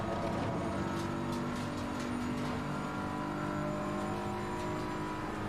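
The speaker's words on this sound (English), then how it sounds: "Letting it rev too high." An Assetto Corsa Competizione race car engine revs high and steady, a dense sustained whine with layered harmonics droning continuously at close range, no talk.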